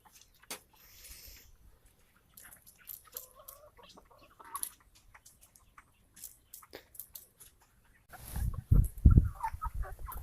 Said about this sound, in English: Day 59, Red Ranger broilers. They're getting huge, as you can see.